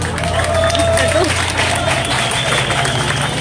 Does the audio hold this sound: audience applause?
yes